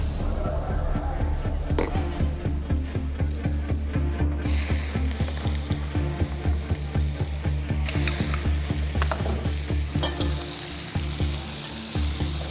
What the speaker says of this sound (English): the only thing that comes to my mind is to make a stir fry